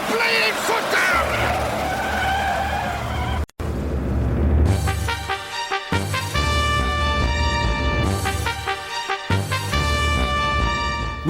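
Radio drama sound effect of a car driving off and skidding, with a burst of tyre squeal and engine roar after a brief cut, then sustained high screeching layered over revving, loud and close.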